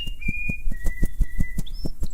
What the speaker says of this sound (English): Bluebird flapped her wings and began to whistle Happy Birthday as loud as her little lungs would permit.